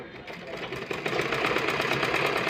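Sewing machine stitching pieces of a blouse together, a steady fast mechanical whir with rapid needle pulses that grows slightly louder partway through, running alone without talk.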